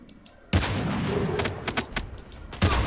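Gunfire in Call of Duty Mobile, a sharp loud burst followed by a rattling sustained volley and another heavy shot near the end, close and punchy with no talk.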